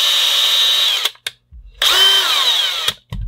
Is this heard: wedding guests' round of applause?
no